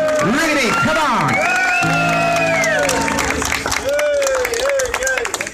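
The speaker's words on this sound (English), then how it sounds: "Let's hear a really big round of applause." An audience at a tribute concert applauds and cheers loudly, with whoops and a voice calling out over the clapping.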